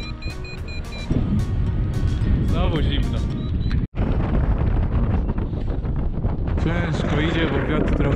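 Heavy crosswind and headwind buffets the microphone during a cross-country flight in Poland, a constant low roar with a short dropout midway and faint tonal sounds in the background.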